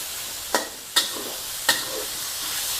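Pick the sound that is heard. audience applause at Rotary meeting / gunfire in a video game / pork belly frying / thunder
pork belly frying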